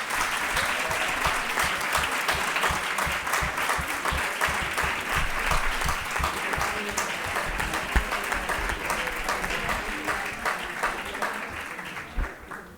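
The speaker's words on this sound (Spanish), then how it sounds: "lo que os agradecería es un fuerte aplauso de todos los que no habéis estado en el comité a vuestros compañeros" A hall full of people at a welcome gathering gives a long, sustained round of applause for their committee companions, dense rapid clapping from many hands that holds steady throughout and thins slightly near the end.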